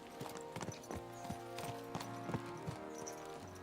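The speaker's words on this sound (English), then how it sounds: "Let's really spur these horses on, eh?" Horse hooves clip-clop in a steady trotting rhythm in Kingdom Come: Deliverance 2, close and fairly loud, over a low background of game ambience and music.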